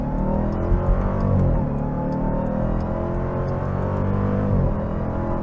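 A 2024 Dodge Durango SRT Hellcat launches hard from a torque-brake start, a loud, close engine roar climbing steadily through the gears with brief dips at shifts, no talk.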